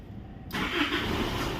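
Isuzu D-Max All New pickup engine cranks and catches, starting abruptly after a quiet moment and settling into a steady, close running rumble.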